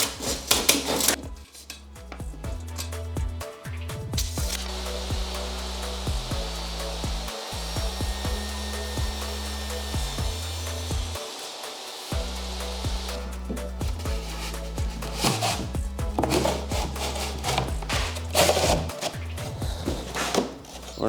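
A power saw cuts plywood to length for cabinet doors, running as a steady, loud, continuous whine with a brief dip partway through and clattering workshop knocks at the start and end.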